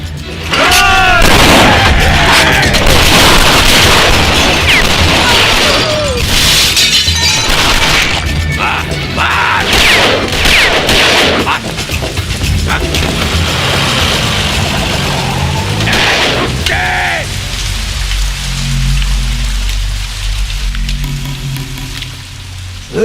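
Gunfire in a dubbed South Indian action film: dense bursts of shots with loud booms and shattering crashes, mixed with shouting voices and a busy background throughout.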